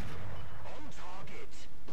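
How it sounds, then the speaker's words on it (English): Tank cannon fire from a 75mm gun motor carriage in War Thunder, a few heavy booming shots with hard impacts, loud and close, over a continuous low battle rumble. "I'm just punching a hole straight through him."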